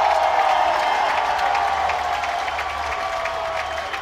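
An arena crowd at an international powerlifting meet chants the lifter's name, Jesus, a steady loud wall of massed voices with faint rhythmic pulses throughout.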